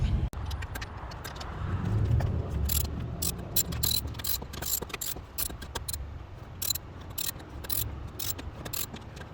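A ratchet with an extension backing a bolt out of the throttle body on a BMW N20 engine, quick bursts of rapid clicking in irregular runs, close up, over a low background hum.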